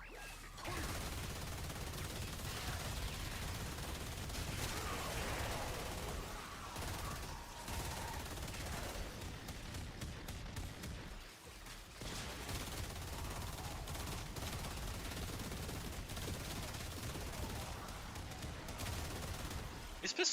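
Pistol fire in the game Warframe, a faint, steady stream of shots and impacts running throughout, with a voice talking at times over the action.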